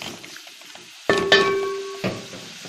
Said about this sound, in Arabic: هنقلبها كده شوية، نشوحها عشان نضيف عليها المكونات